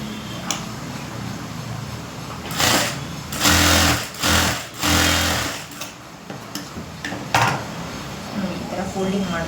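Sewing machine stitching along garment lining in several bursts, each a loud, close, rapid whirring run separated by short pauses, with some handling noise between runs.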